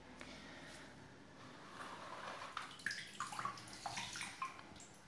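Tap water runs steadily in a brand-new bathroom, a continuous splashing and gurgling stream that grows busier and brighter toward the end, with no voices.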